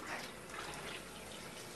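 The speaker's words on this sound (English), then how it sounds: "I got to run the water too." Tap water runs steadily while a squid is cleaned, a faint, even splashing hiss that continues without a break and without speech.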